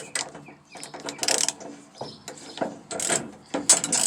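Half-inch breaker bar ratchet fitted with a reducer adapter turning a large socket on a RAM Hemi truck, giving close rapid clicking ratchet bursts in short uneven strokes with brief pauses between.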